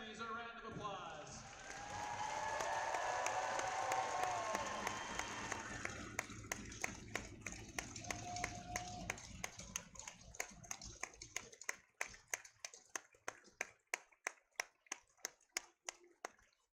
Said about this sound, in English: Fans, give these families a round of applause.